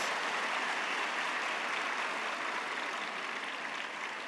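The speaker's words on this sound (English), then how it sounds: "Let's give a big round of applause, brothers and sisters." An audience at a birthday celebration for Sadguru Sri Madhusudan Sai in Muddenahalli applauds, a dense, even wash of distant clapping that holds steady throughout without voices.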